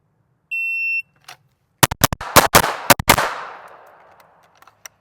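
A Ruger RXM pistol fires at a shooting range, preceded by a short electronic timer beep; then about six loud, sharp gunshots crack in a rapid cluster, followed by a fading echo and a few faint distant shots.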